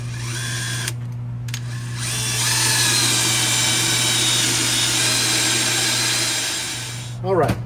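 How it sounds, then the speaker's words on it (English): Power drill with a 5/16 bit boring straight through a battery tray, a steady loud whine held for several seconds with a brief dip early on and a short spin-down at the end. "Use a drill with a 5/16 drill bit and go straight through where you marked your hole."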